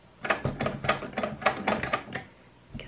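A sewing machine stitches fabric for a white summer dress. It makes a steady run of evenly spaced mechanical thumps and clatters, close and moderately loud.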